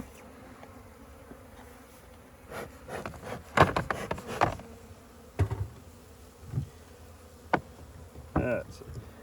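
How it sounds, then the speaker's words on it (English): Honey bees buzz around a nuc box with soft intermittent drones and scattered rubbing and knocking sounds, close and fairly quiet, with no talking. "If there's bees left in the box, you can just shake them on there and be done with it."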